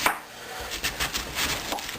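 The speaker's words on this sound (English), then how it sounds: "We're going to finish chopping this." Knife chopping cabbage on a board in a home kitchen, a quick run of about eight crisp, close cuts in uneven rhythm, with no voices heard.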